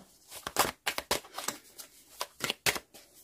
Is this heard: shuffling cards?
yes